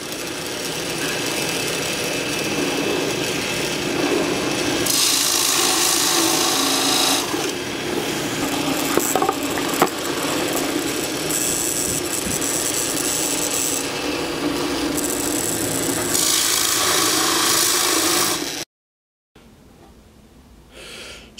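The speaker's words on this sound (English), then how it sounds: "So now I can drill the holes for the buttons." A steady, loud mechanical whirring of a power drill boring holes in wood grinds on for most of the stretch, with brief shifts in pitch, then cuts out abruptly near the end into quieter hiss.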